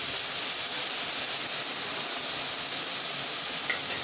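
Onions frying in a pan with salt for prawn thokku give off a steady, close hiss of sizzling that holds even and unbroken throughout.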